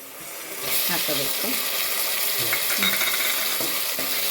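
Onions and tomatoes frying in a pan for tomato bath, a close, steady sizzle with scraping and clinking from stirring a utensil against the pan.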